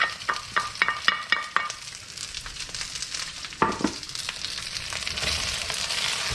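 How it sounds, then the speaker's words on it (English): Rice hits a hot oiled wok and stir-fries with eggs, a run of sharp scraping tosses followed by a steady, close sizzle with no talk. "Here comes my rice."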